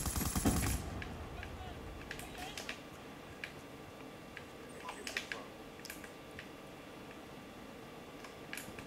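Light machine gun fire in Black Ops 2 rattles off in scattered bursts of sharp shots, moderately loud, with other in-game clicks and impacts around them.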